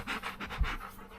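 A dog pants in short, rapid breaths close by, a rhythmic run of huffs lasting about a second with a faint thump partway through, no talking.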